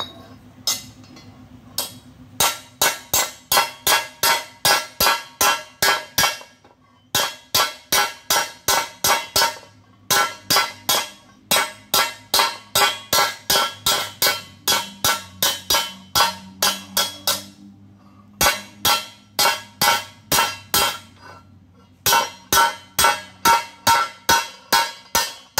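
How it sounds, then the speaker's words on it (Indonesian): Repeated metal hammer blows strike a steel pipe fitting being shaped into a weldolet, a loud, sharp ringing clang in steady rapid bursts broken by short pauses, with no talk. "ini caranya kita pukul ya, pakai palu atau pakai pipa nih"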